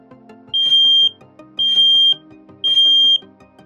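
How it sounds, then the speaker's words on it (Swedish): A smoke detector sounds its test alarm: three loud, shrill, piercing beeps, each about half a second long, evenly spaced, close up. "För att aktivera brandvarnaren sätter man batteriet på plats, vänder på den och trycker in testknappen"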